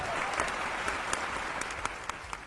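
An audience at a Hindi poetry recital breaks into sustained, dense applause, many hands clapping steadily at moderate distance throughout.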